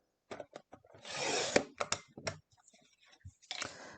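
A paper trimmer blade slides through paper to cut a strip to 1 1/4 inch at a scrapbooking table, giving a close, steady rasping swish of about a second among soft handling clicks and taps.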